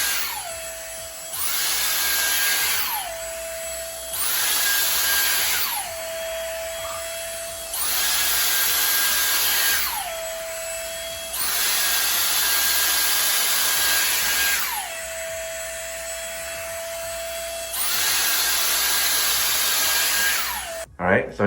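A Dyson Airstrait straightener blows hot air while straightening hair, a loud close high-pitched whine in long steady bursts of about two to three seconds, each dropping to a lower hum between passes.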